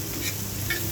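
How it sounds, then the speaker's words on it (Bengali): Chopped eggplant goes into a pan of frying spiced masala made with salt, chili powder and turmeric, giving a close, continuous sizzle and stirring scrape for about a second. "এর মধ্যে আমি ওই কুচি করা বেগুনগুলো দিয়ে দিচ্ছি"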